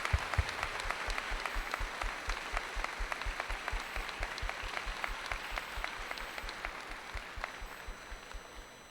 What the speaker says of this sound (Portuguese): Eu queria pedir todos uma salva de palmas para eles.